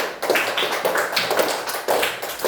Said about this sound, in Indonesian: Coba Ibu minta dulu bertepuk tangan Ki semua